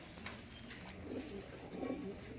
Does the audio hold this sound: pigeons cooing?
yes